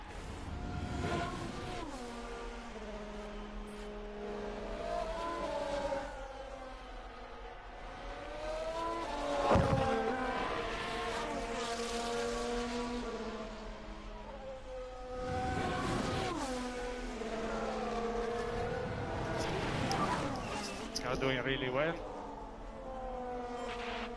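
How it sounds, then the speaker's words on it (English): Formula 1 race cars at the 2022 Brazilian Grand Prix in Sao Paulo, engines rising and falling in pitch as they pass and rev, under continuous commentary. "Zhou Guanyu leads the Brazilian Grand Prix."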